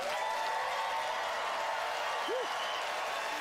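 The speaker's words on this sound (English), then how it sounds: "It is up to you to pick a winner by applause" A radio studio audience applauds steadily to pick a contest winner, a soft even wash of many hands clapping at a moderate distance, sustained without pause throughout.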